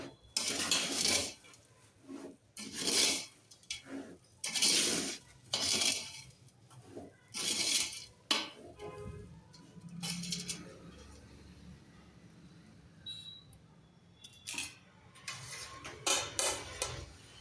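Spoon scraping and clinking against a metal vessel as boondi with raisins is mixed into sugar syrup for laddu, a run of irregular scrapes and taps close by, alone without talk.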